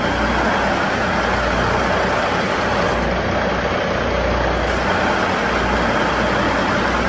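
A Cummins engine runs in a boat's engine room, a loud, steady, unbroken diesel drone with a deep rumble and no pauses throughout.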